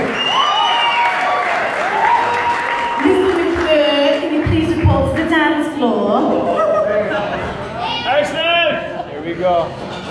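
An audience applauds at a live show where a singer performs, with a wash of clapping mixed under loud talk and music.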